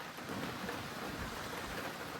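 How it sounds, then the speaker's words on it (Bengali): Steady rain falls amid strong wind and stormy weather after heavy snowfall, a continuous broadband wash of patter and gusts with no voices. "তার সাথে বৃষ্টি হচ্ছে।"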